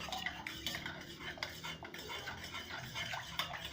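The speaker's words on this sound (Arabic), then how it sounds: "نعمل بقى كده ونقلب كله في اتجاه واحد" A spoon stirs milk round in one direction in a pot to make homemade yogurt, producing a quiet, continuous scraping with light metallic clinks, close by and soft.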